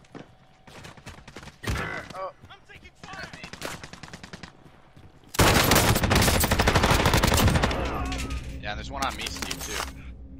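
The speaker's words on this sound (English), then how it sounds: "There's people shooting at me still." Gunfire in a Fallout-style bunker fight in a video game: scattered sharp shots early, then a loud sustained burst of rapid automatic fire over the second half, with voices talking over it.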